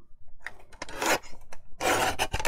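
Paper offcuts being trimmed for a handmade tag in a papercraft session, with close, dry cutting and rubbing strokes in a few short bursts.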